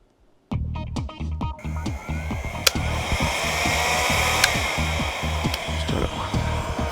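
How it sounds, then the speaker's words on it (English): A heat gun switches on with a click and then blows hot air in a steady, loud whooshing roar with a fluttering motor hum, used to loosen stickers on the plastic body of a Singer Heavy Duty sewing machine. "I'll get my heat gun and I'll loosen the stickers first"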